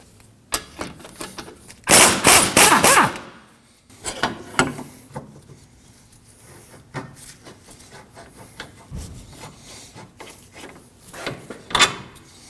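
A wrench turns and a 19mm control arm bolt comes free at the knuckle of a 2016-2022 Honda Pilot's rear suspension, giving a loud burst of metallic clatter followed by scattered clicks and clunks. No one speaks.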